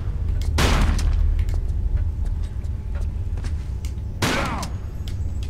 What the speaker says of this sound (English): One of these parts is explosive, so I'll use my shotgun.